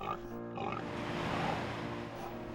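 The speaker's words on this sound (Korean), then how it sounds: "생김새 때문에 험한 소리를 듣곤 하는 돼지. 그 중에서도 지리산이 품어 키운 흑돼지입니다." A Jirisan black pig on a Korean farm gives a low, rumbling grunt close up, layered over a steady, loud background of farm noise for a few seconds.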